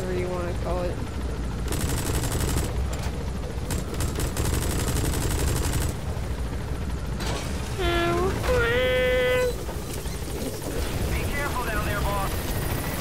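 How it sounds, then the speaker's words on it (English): Gatling-style minigun fire and battlefield noise in Metal Gear Solid V: The Phantom Pain, with sustained dense bursts of automatic fire, mechanical whirring and helicopter-like rumble under a busy game soundscape, broken by short pauses. "For the Gatling gun. Or minigun, whatever you want to call it."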